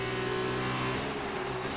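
F2 race car engine in a racing game, revving hard and climbing up through the gears toward top speed at the British round, a steady loud high-pitched whine that fills the whole clip with no talk over it.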